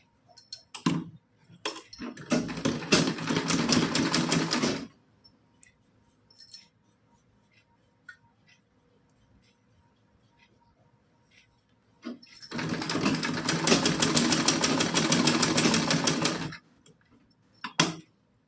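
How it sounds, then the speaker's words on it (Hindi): A sewing machine stitches a small Laddu Gopal frock dress in two long whirring runs of several seconds each, close and loud, separated by a quiet pause with light clicks and handling. "अब इस पे हम सिलाई लगा लेंगे इस तरह से"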